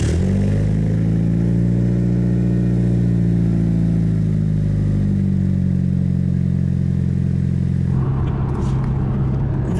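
Mitsubishi Evo 6 engine droning loudly and steadily while driving on the road, pitch shifting gradually as speed changes, with a sharper change near the end.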